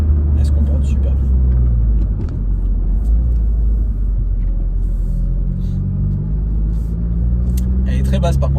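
A Honda Civic Type R FK2 driving along calmly, its engine a low steady rumble with road noise throughout, while someone talks over it from inside the car.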